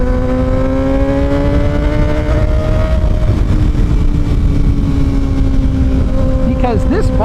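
A Kawasaki Ninja ZX6R 636 motorcycle engine holds a steady, buzzing tone that sags slightly in pitch and then climbs again near the end, close and fairly loud over a rough rumbling background.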